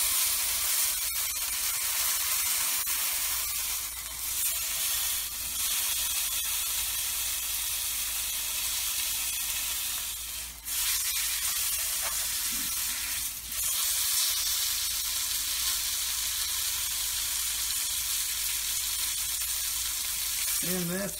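Beef roast sizzling and frying in a very hot pan on a stove, a steady loud crackling hiss lasting throughout with brief dips, no talking.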